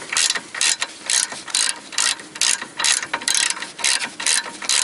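A ratchet wrench clicks rapidly in repeated bursts, about a dozen quick ratcheting strokes with brief pauses between, close and loud, as the last nut comes off a Toyota Corolla ball joint from the 1996–2007 model years.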